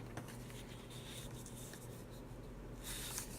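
A trimming blade scores a sheet of card stock for a curtain fold card, giving a steady light scratching and rubbing close by, with a brighter scrape near the end.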